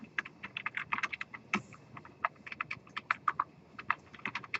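Code is typed on a computer keyboard in a quick, uneven patter of close, crisp key clicks, with brief pauses between bursts and no voices.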